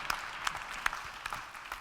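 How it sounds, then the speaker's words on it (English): Sparse applause from a small, likely virtual audience welcoming a presenter at a conference on publishing and commerce in Japan, heard as a few scattered, fairly faint claps over about two seconds with no talking. "can you welcome Marco from Tokyo with a bit of supporting applause?"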